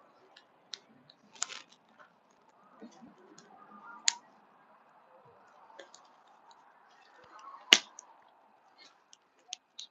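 Sharp, scattered pops and crackles of burning wood in a campfire, irregular and fairly quiet, with one louder snap near the end over a soft low murmur.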